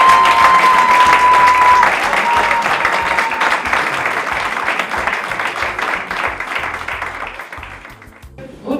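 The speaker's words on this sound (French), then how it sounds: "je vous prie de bien vouloir applaudir très fort pour ce couple qui vient de s'unir." Wedding guests give the newly united couple a loud, sustained round of applause in a crowded hall, fading gradually toward the end.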